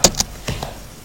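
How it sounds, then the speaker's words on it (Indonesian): Sharp clicks of keys being pressed on a computer keyboard while working in an Excel spreadsheet, a few separate taps spaced irregularly, close and fairly quiet, with no talking. "Kita absolutkan dengan cara kita menekan tombol F4 di keyboard"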